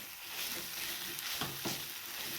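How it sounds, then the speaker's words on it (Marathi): Onion and tomato for egg bhurji are stirred and pressed in a hot pan, a steady close sizzle with a couple of brief spatula scrapes, and no speech. "मिक्स करत असताना आपल्याला आता काय करायचे हा कांदा आणि टोमॅटो असा प्रेस करून घ्यायचा आहे"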